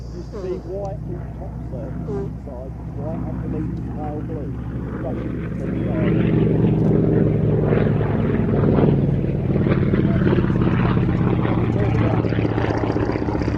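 A vintage tandem-seat trainer aircraft flies an airshow display near Little Gransden airfield, its engine droning steadily and swelling louder as it passes, under continuous commentary talk.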